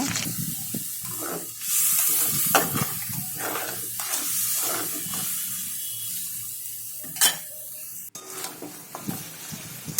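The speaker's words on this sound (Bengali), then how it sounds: "এবার মাংসটা দিয়ে আমি ভালো করে কষে নেবো" Meat frying in a pan while being stirred hard during browning, a loud close sizzle broken by repeated scraping and knocking strokes of a utensil, with a sharp clatter near the end.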